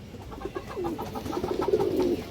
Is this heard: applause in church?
no